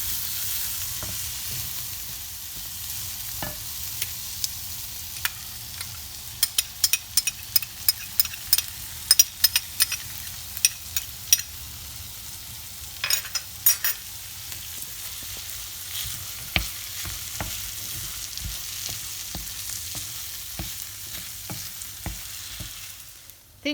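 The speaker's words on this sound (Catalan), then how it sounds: "afegeixo aquesta miqueta de tomàquet, poc. I ho fregaré un momentet" Tomato with garlic fries in a pan for black rice, a steady close sizzle broken by frequent sharp crackles and spatters, with stirring scrapes throughout and no talk.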